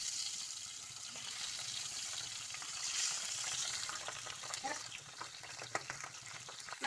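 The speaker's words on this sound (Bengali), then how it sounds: "তেলটা গরম হয়ে গেছে, এরপরে মাছগুলো ভেজে নিব।" Pabda fish frying in hot mustard oil, a steady close sizzle with crackling pops that grow busier toward the end, with no talking.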